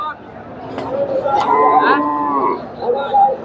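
Cows at the Chandaikona cattle market in Sirajganj give a loud, drawn-out moo, followed by shorter lowing calls, over a murmur of nearby crowd chatter and talk.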